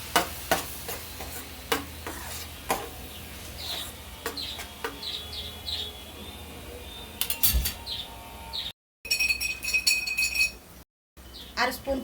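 Ladies finger fry curry is stirred in a pan, with a run of light scraping and clinking taps, some quiet frying sizzle underneath and brief silent breaks.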